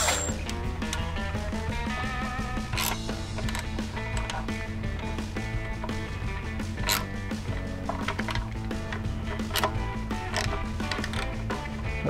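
A ratchet wrench tightening transmission pan bolts on a 2003-2007 Ford F-250/F-350 6.0L Powerstroke truck, steady close clicking and mechanical rattling over a continuous dense background with no talk.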